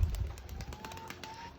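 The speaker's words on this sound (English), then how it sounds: "Okay, Rodolfo, here's your bird" A racing pigeon coos softly and close by at a loft, a few low throaty coos over faint background noise and brief rustling.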